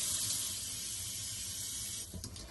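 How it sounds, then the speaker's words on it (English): Water runs steadily from the washroom tap of a 2022 Bailey Unicorn Cabrera campervan, a continuous close hissing splash that stops near the end. "run the tap in here as well, because the water's just got a little bit further to travel"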